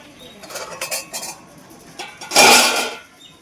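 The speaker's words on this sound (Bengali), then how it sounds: "আর এখানে দেখা একটা এই যে ছিদ্রওয়ালা থালা দিয়েছি" A perforated metal plate is set onto a stand inside a wok of boiling water on a gas stove, giving several close metallic clinks and scrapes, with one louder clatter toward the end.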